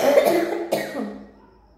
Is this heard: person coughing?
yes